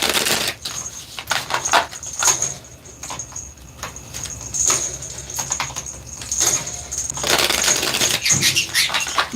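A pet bird plays with a jingle ball, making bursts of close, bright jingling and rattling clicks in irregular clusters across the clip, with busy scratchy flurries and brief pauses between them.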